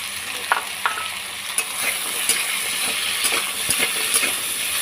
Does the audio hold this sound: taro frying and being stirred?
yes